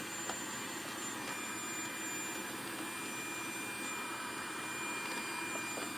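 An Oreck DTX 1300 Dutchtech canister vacuum runs at low suction, giving a faint, steady whooshing hum with no breaks.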